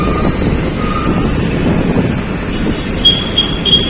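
A metro train rumbles steadily nearby with a broad rolling roar, and faint high squeals of wheels on rails near the end, no talking.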